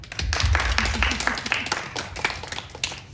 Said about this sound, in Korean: 우리 어머니들 같이 박수